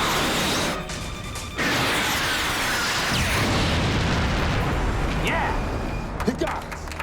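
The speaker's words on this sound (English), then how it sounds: "Missile launch." Missile launch and explosion from a film about a deadly solar storm, a loud sustained roaring rush that swells after a second and holds steady, with brief excited voices near the end.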